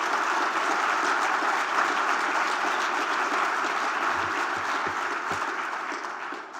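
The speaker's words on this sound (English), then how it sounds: "Let's give it a little applause for progress." Audience applause at a rural community development event, honoring the first Latina elected to the U.S. Senate; steady, dense clapping that holds evenly throughout and fades slightly at the end.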